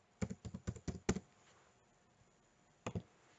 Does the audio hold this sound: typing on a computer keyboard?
yes